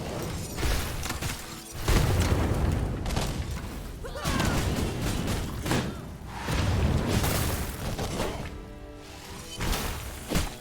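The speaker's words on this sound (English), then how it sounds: "Oh, great, bombs." Bombs burst in a steampunk-themed video game, a series of heavy booms and crashes recurring every couple of seconds over about ten seconds, loud and close, mixed with clanking game effects.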